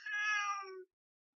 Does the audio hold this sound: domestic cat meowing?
yes